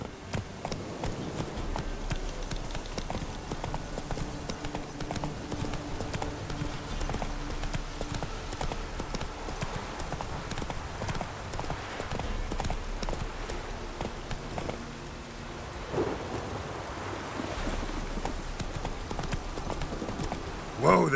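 Horse hooves clip-clop steadily at a gallop, carrying Roach across the ground in The Witcher 3: Wild Hunt, with voices talking over the rhythmic hoofbeats throughout.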